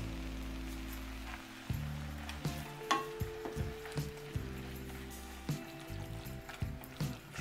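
Drained fettuccine being stirred with Alfredo sauce in a pot, soft wet squelches and a series of spoon clinks and scrapes against the metal at an uneven pace, fairly quiet and close.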